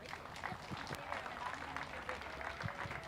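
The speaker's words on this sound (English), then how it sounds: "Let's give that young man a big round of applause." Faint, distant applause at a county youth swine show, scattered clapping with talk mixed in underneath.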